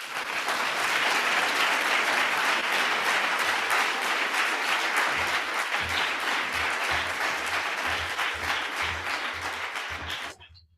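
Loud, dense applause from a school audience after senior speeches, continuous clapping that holds steady before cutting off abruptly near the end.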